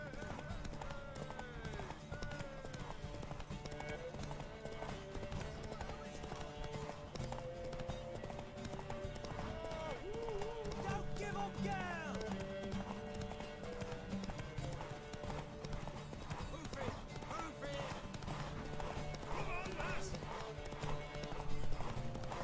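Horse hooves galloping in The Witcher 3, a steady, rapid clip-clop running throughout with a neigh or two, under game music and a voice talking.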